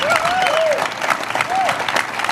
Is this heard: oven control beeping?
no